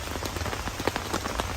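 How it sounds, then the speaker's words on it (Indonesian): Steady rain patters on surfaces at a mountain campsite on Mount Slamet, a dense, even hiss of drops close by with no voices over it. "Ada suara hujan loh."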